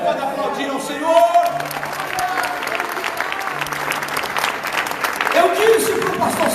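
A church congregation applauding steadily for several seconds, a dense crowd clap with shouts and voices mixed in.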